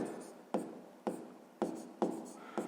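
Chalk strokes on a classroom board while writing numbers for a sixth-grade fraction exercise: five sharp, evenly spaced taps and scratches, close and distinct, with no talking over them.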